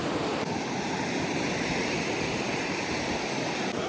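Sea waves roll onto a Goa beach with a loud, continuous roar and wash of surf that fills the whole stretch with steady broadband rumble, along with some wind buffeting.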